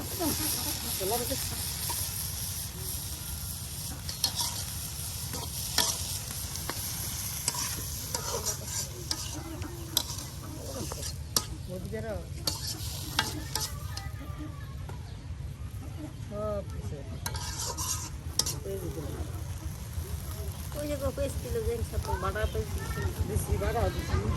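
Boiled banana stem stir-fried in a pan with dried fish and spices gives a steady close sizzle and hiss with scraping stirs throughout, and a voice talks over the cooking.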